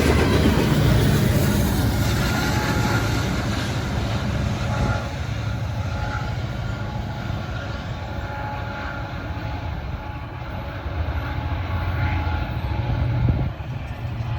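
A CSX freight train with distributed power units rumbles past, with a loud continuous roar of engines and wheels that eases slightly as it goes by.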